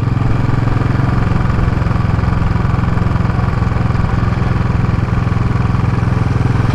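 A Royal Enfield Classic 500 single-cylinder motorcycle engine, fitted with a booster plug, thumps steadily and loudly throughout on a test ride, its low throb continuous and close with no voices.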